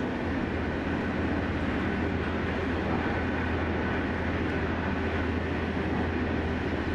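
Trains on a railway network give off a continuous, even rumble and broad roar, steady in level with no distinct passes or breaks, heard alone without voices.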